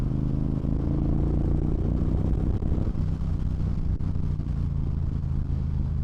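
A Triumph Speedmaster motorcycle engine runs with a steady, loud low rumble under wind noise, its revs hanging and slowly dropping off rather than falling away quickly, heard close with no talking.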